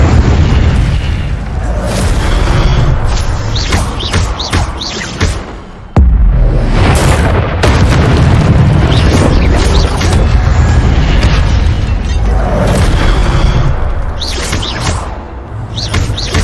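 Loud, booming spell blasts and bursts from the Hogwarts Legacy video game follow one another almost without pause, with rumbling impacts, crackles and one sharp cut in the middle; no speech is heard.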